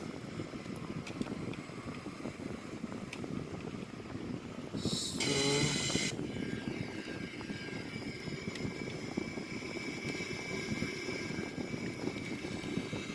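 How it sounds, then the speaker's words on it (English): Airbus A340-313X airliner taking off and climbing, a steady broad engine roar inside the cabin, loud and continuous, with a brief brighter burst of mechanical noise partway through. "As you can see, we have a very nice takeoff."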